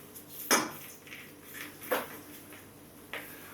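A teaspoon scrapes pulp out of a passion fruit, making a few sharp metallic clinks and scraping strokes against the shell, spaced out and quiet, with no talking.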